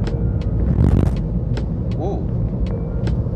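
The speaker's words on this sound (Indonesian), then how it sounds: "Sekarang kita coba cari lagi speed bumpnya dengan kecepatan agak kencang." A 2017 Nissan March XS rumbles along at about 50 km/h with a low steady road drone, a brief thump and rattle as it rolls over a speed bump.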